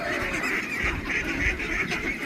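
Geese honk repeatedly among ducks on a small poultry farm in rural Saudi Arabia, a continuous chorus of overlapping nasal calls at moderate distance.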